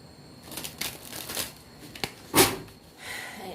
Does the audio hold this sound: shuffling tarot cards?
yes